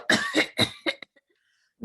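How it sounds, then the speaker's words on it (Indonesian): An elderly man with tuberculosis coughs in a quick series of about four harsh, close bursts, then falls silent, with no talk. "ada ilustrasi kakek TB sedang batuk-batuk."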